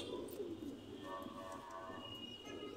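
A pair of old-breed high-flying pigeons coo softly and close by in a brief, quiet burst with faint chirps around them.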